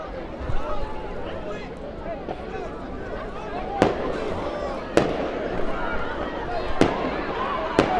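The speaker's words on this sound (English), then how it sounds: "As we see some fireworks in the distance" Distant fireworks pop and crack in sharp isolated bursts at a high school football game between H.D. Woodson and Wilson, heard over a continuous crowd murmur and an announcer talking.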